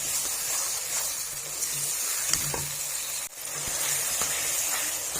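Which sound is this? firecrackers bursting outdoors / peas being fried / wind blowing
peas being fried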